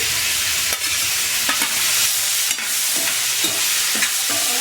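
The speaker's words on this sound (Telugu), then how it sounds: "పసుపు ఇప్పుడు టమాటా ముక్కలు వేసేద్దామండి" Tomato pieces frying with turmeric in a pan give a constant bright sizzle, broken by a few soft stirring scrapes and knocks spaced through the sound.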